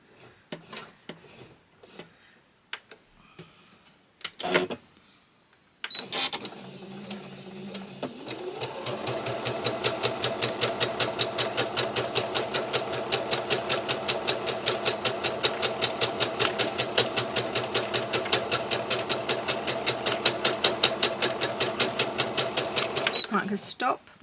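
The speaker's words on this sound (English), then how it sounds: "I'm just going to gently do a vermicelli stitch, which is just like a little random squiggle" A sewing machine stitches a free-motion vermicelli squiggle over textile fibres, starting after a few handling clicks and then running as a fast, steady, close mechanical chatter until it stops near the end.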